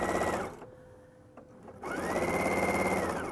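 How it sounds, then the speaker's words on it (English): A quilting sewing machine stitches fabric in a steady, close mechanical whir, stops for about a second, then starts up again and runs on. "and then I'm going to sew"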